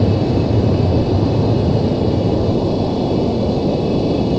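An F-14 jet engine roars in a flight simulator during a climb with the throttle eased back, a steady, dense, loud rumble with no breaks.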